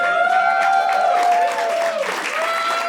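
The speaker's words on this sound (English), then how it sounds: "Everybody's cheering." An audience cheers and applauds, with steady clapping under sustained whoops and shouts that swell and fade across the stretch.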